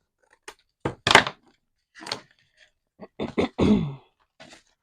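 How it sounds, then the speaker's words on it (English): Several short, rough throat-clearing bursts close by, separated by brief silences, with a longer raspy one near the end. "I'm so sorry about clearing my throat, guys."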